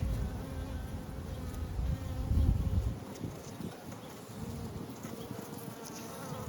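Honey bees buzz steadily inside an opened beehive during a quick check of the honey supers, a dense, close drone that swells briefly and then continues evenly throughout.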